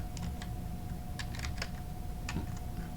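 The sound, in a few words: typing on a computer keyboard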